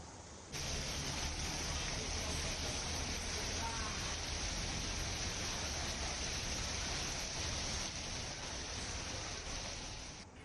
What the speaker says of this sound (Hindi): कुर्ला की तस्वीर में हम आपको दिखा रहे हैं बारिश किस तरीके से अपने साथ आफत लेकर आई है